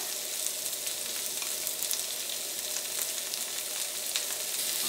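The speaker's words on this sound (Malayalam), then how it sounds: "ഇത് തുറന്ന് വെച്ചിട്ട് തന്നെ ഇത് നല്ല ഹൈ ഫ്ലെയിമിൽ ഇട്ടിട്ട് ഈ ക്യാബേജും ക്യാപ്സിക്കും ഒന്ന് ടോസ്റ്റ് ചെയ്തെടുക്കണം" Cabbage and capsicum fry in coconut oil on a high flame, producing an even, constant hiss and crackle close up with faint stirring throughout.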